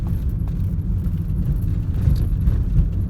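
A car drives slowly past a cemetery, a steady low rumble of road and engine noise with faint rattles, continuous and fairly loud from inside the vehicle.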